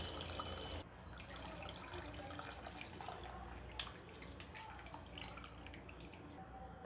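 Soaked tamarind water is poured into a simmering anchovy fish curry in a home kitchen, giving a steady liquid trickle and bubbling with occasional splashes, heard alone at a moderate level.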